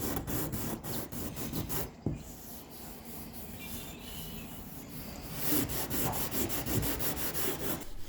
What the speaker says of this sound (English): The edge profile was sanded all by hand to keep from burning through any of the corners.